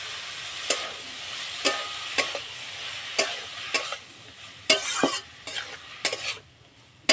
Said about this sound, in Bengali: একটু ভালো করে নাড়িয়ে চাড়িয়ে কষে নিতে হবে।